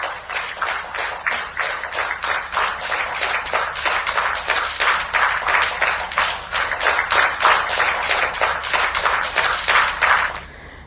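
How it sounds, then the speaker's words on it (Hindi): Ministers stand, clap and thump tables in a sustained ovation honouring Prime Minister Narendra Modi: a dense, loud wash of many hands and rapid desk beats lasting about ten seconds, then cutting off abruptly. "मंत्रियों ने मेज थपथपाकर और तालियां बजाकर उनका भव्य स्वागत और अभिनंदन किया।"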